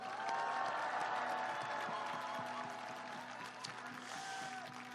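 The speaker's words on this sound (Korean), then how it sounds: "격려의 박수 한번 부탁드립니다." Crowd applause of encouragement at an outdoor election rally in Yeongdeungpo, Seoul, steady distant clapping over a public-address hum, with a faint voice underneath.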